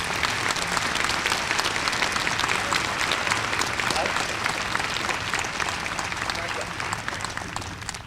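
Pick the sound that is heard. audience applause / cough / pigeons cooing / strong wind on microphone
audience applause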